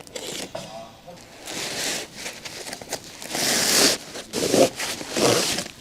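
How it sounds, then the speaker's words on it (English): Unboxing of a front windshield A-pillar molding trim for a Ford Explorer D4 U502: close crinkling, scraping and tearing of packaging in irregular bursts, louder toward the end. "Ford Explorer front windshield A-pillar molding trim unboxing."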